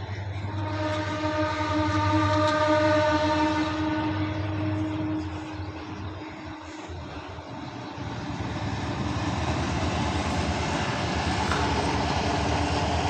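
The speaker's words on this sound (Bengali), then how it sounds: "বলতে না বলতে ট্রেন চলে এসেছে" A train rumbles past at close range on a rail line beside a house, a long steady roar with a sustained horn tone early on, swelling and easing over several seconds.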